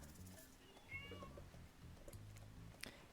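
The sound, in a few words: cat meowing loudly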